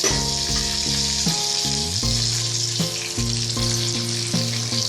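Hilsa fish fry in oil in a pan over a medium flame, giving a continuous, even sizzle and crackle for about five seconds with no voices.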